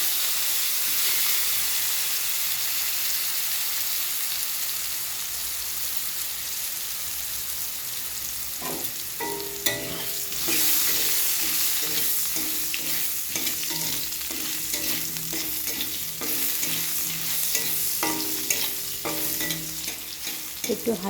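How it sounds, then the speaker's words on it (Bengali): Cut potatoes fry in oil left over from frying fish, a loud steady sizzle and hiss throughout, joined about halfway by bursts of spoon scraping and clatter against the pan. "আলুটা আমার হালকা ফ্রাই হয়ে গেছে।"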